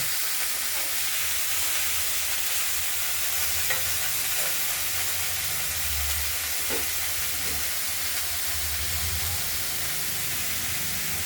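Chopped cauliflower and green peas stir-fried in a wok, with a steady low sizzle throughout and occasional scraping strokes of a spatula, moderately loud and close, no voices.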